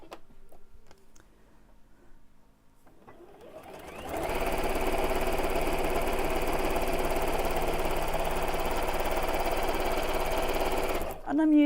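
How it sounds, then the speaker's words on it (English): A sewing machine stitches fabric pieces together with about a quarter-inch seam allowance. After a few quiet seconds it starts up and runs in a loud, continuous mechanical hum that stops abruptly near the end. "I'll just keep sewing until we get there."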